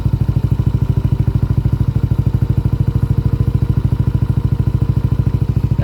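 A 2025 Yamaha NMAX 155 scooter engine runs loud and close during a test ride, a steady rapid pulsing putter that holds evenly throughout.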